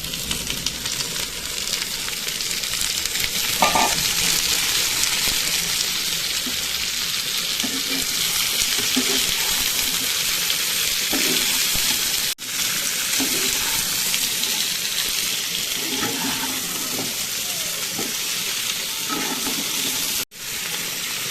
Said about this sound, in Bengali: পেঁয়াজটা ভাজা হয়ে গেছে, এই সময় আমরা কাঁচা টমেটোটা দিয়ে দেবো।